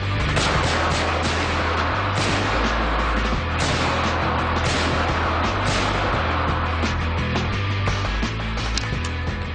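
Rapid rifle gunfire from a weapon resembling an M4, a dense continuous stream of loud sharp reports with heavy low rumble throughout, no talking.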